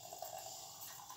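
Boiled water is poured from a carafe onto coffee with cinnamon, making a quiet, continuous trickling and filling sound, faint and close with no talking.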